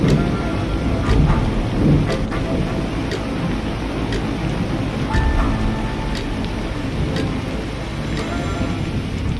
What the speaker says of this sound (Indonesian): Suara hujan jadi musik yang menyatukan kata-kata.